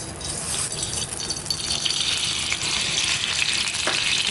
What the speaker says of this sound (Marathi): आपण तेलात जिरे टाकून घेऊया